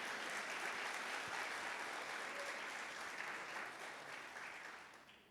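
Church congregation applauding the Lord, a broad, even wash of many hands clapping at moderate distance that holds steady and then fades out toward the end.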